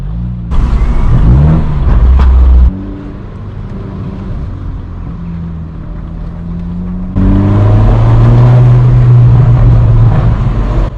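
Straight-piped BMW 1 Series exhaust blares loud and close in two hard revving bursts with crackles and bangs, separated by a lower, steadier drone while the car drives.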